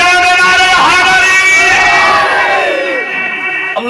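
A large crowd at an annual Sufi urs gathering shouts religious slogans in unison, a loud, sustained chorus of many voices rising and falling together and filling the whole clip.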